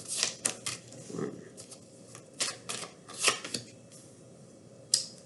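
Tarot cards shuffled and drawn one by one and laid down during a full moon reading, giving a series of crisp papery slaps and riffling flicks at an uneven rhythm, close and fairly quiet, with no talking.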